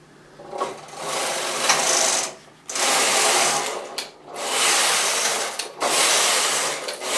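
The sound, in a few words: Knitmaster knitting machine carriage moved across knitting needles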